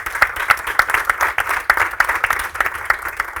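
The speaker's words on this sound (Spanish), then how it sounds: "Un fuerte aplauso para Miguel" A gastronomy summit audience applauds a chef, with sharp individual claps standing out from a fast, uneven patter of hands, fairly loud and close, with no talking over it.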